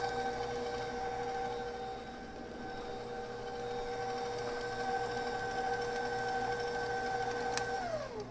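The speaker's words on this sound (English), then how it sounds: "I'm just mixing this kind of on a medium-low speed." Electric mixer running at medium-low speed through whoopie pie batter, a steady motor whine with sustained tones that slide down as it slows near the end.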